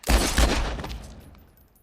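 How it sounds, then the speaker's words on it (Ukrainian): Gunfire in the video game The Last of Us Part I: two loud, close shots in quick succession, each decaying into a fading reverberant tail. "А що ти двічі стріляєш? Економ патрони"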